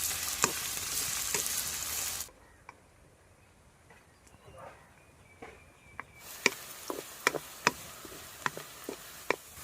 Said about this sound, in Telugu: ఈ ఉల్లిపాయ ముక్కలను దారుగా వేగేదాకా వేసుకోవాలండి